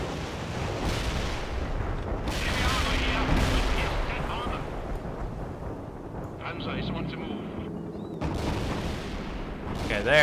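Artillery and gunfire boom and crackle continuously through a battle in the World in Conflict strategy game, dense and loud, with radio-style voices talking over the barrage.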